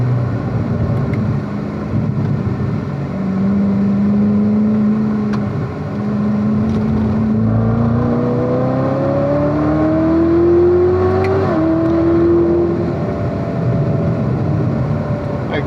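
A Chevrolet Corvette C7 ZR1 on a track at Spring Mountain, heard from inside as a steady engine drone that climbs in pitch through several rising pulls before easing off, with wind and road roar underneath.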